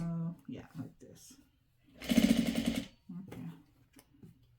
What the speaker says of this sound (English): Check my sewing machine because it doesn't. Machine don't sound right.